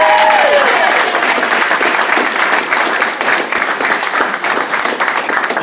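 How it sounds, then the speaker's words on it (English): Sustained wedding applause from a crowd, dense clapping filling the room steadily and loudly throughout, with no break or fade. "applause for Todd Fitzsimmons"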